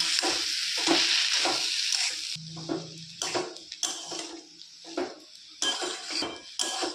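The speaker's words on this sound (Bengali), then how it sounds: "ডাল এবং থোড়টা আমি কিছুক্ষণ কষাতে থাকবো।" Red lentils and banana stem stir-fried in a pan for a vegetarian dalna: a steady sizzle with repeated spatula scrapes and clinks against the pan, close and clear, with no talking.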